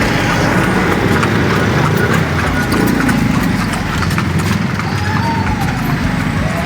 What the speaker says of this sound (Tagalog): Kabayo, ganito yung walk yan ganito.